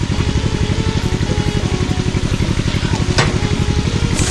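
Mud crab masala sizzles loudly in a pan while being stirred, a steady close frying hiss with rhythmic scraping strokes throughout.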